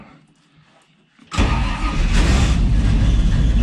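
A car engine cranks and catches after a quiet moment, jumping abruptly into a loud, close, steady idle with a rough rumble that carries to the end.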